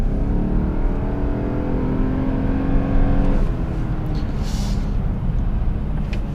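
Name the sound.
2007 Lexus GS 450h hybrid CVT gearbox engine noise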